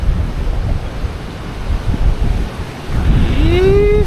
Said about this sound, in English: I'm out of the sun, just enjoying the wind